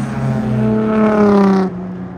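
A vintage 3.8-litre Jaguar race car roars past at high speed on the Circuit de Bresse, its engine note loud and steady, then dropping in pitch as it pulls away.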